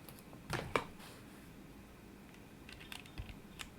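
Typing on a custom-built mechanical keyboard with stock Cherry Nixie switches, close and quiet, with scattered keystroke clicks and a few sharper clustered presses, no voices.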